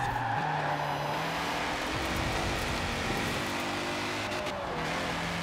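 An engine revs steadily with tires squealing and skidding as a car drives in Forza Horizon 4, loud and continuous with shifting pitch.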